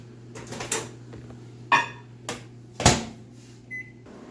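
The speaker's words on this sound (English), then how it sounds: "we're going to warm it up in the microwave just a little bit" A microwave oven warms a jar of cheese spread in a home kitchen, with a steady low hum under a few sharp clicks and knocks of handling, then a short beep near the end.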